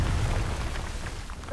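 Confringo blasting spell explodes in the video game Hogwarts Legacy, a loud rumbling burst with deep low-end weight that stays dense and noisy through the whole short moment, no voices.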